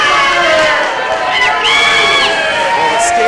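A standing-room-only wrestling crowd roars steadily throughout, dense cheering and shouting from a packed arena with no break in the noise.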